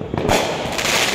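Loud Fourth of July fireworks crackle and burst in a dense, rumbling rush of pops and hiss, close by, with no voices.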